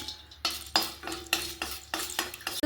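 Dry pistachios and cardamom being roasted, stirred and tossed in a hot pan, with rhythmic scraping and rattling strokes, close by and without speech.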